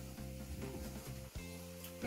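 Bakso goreng meatballs frying in hot oil, a steady close sizzle running through the whole stretch with no talk over it.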